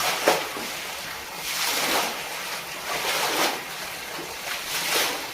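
Water washes and splashes across floors while a house is scrubbed clean, in broad surging swooshes that rise and fall about once a second, steady and fairly close with no talk.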